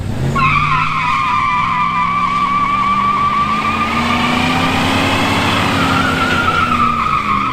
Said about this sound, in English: So, is 175 horsepower enough to do a burnout?